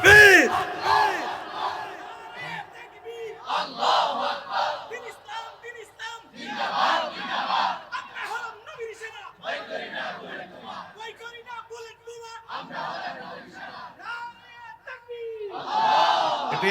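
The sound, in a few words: crowd chanting the slogan Allahu Akbar in response to Takbir call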